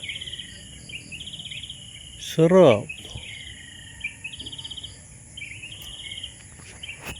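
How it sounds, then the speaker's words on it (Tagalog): Birds chirp and trill in repeated short phrases at a quiet campsite, joined by a steady insect-like buzz; a single spoken word cuts in briefly partway through. "Narinig yung huni ng ibon."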